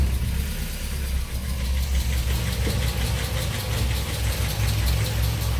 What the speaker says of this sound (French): on va maintenant pouvoir démarrer la voiture.